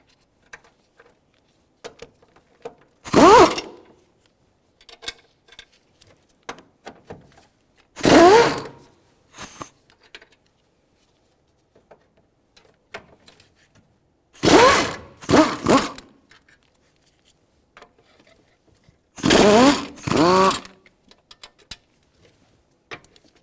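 Ratchet wrench backing out 13mm bolts that hold a plastic tray in a 2007-2012 Nissan Altima, heard as four separate bursts of rapid clicking, close and fairly loud, with quiet pauses between them.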